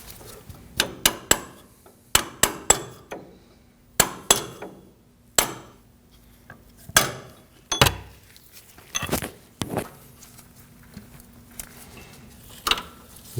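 A brake hose shim on a 2009-2014 Ford F-150 being tapped onto its bracket, a series of sharp metallic hammer taps in small clusters with short pauses between, close and distinct.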